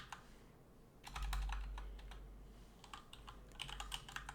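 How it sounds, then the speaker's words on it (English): Quiet typing on a computer keyboard, bursts of quick key clicks in irregular clusters over a low hum, close and alone without speech. "you can start typing Python"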